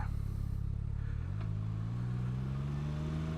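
A 2021 Can-Am Ryker 900 Rally Edition three-wheeler with an automatic transmission pulls away hard, its engine note rising steadily in pitch as it accelerates close by.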